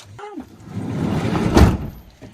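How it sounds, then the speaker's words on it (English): A door closes at a cabin in Rangeley, Maine, a brief shuffling lead-in building to a solid thunk near the end, with a voice heard briefly at the start. "Close the door."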